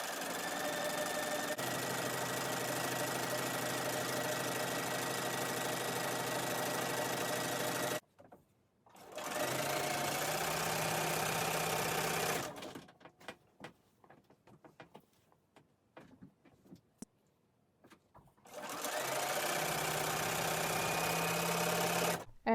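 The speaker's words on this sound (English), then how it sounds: "I started sewing strips together" Sewing machine stitching scrap fabric strips together in steady runs, a loud continuous mechanical whir that stops and starts, with quiet clicks and handling noises during the pauses.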